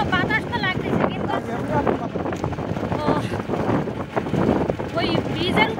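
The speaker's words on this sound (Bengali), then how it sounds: "ভ্যানে উঠেছি তো বাতাস তো লাগতেছে" Wind buffets the microphone while riding an open van on a sunny village road, a loud, constant rushing roar with a person talking over it.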